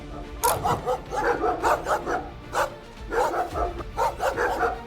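A street dog in a narrow lane barks repeatedly in quick, loud bursts, close by, with a short break midway before the barking resumes; faint background voices are present.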